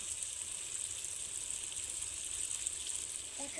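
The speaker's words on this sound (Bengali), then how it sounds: "দইয়ের বাটিটা ধুয়ে আমি অল্প একটু জল দিচ্ছি।" A little water poured from a rinsed yogurt bowl into mutton masala cooking in a pan: a steady, close sizzling hiss with watery rushing, continuous throughout and no talking.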